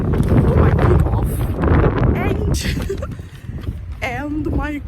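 Strong wind buffets the microphone at a bay by the Melbourne sea in winter, a loud continuous low roar with gusts, while a person talks over it throughout.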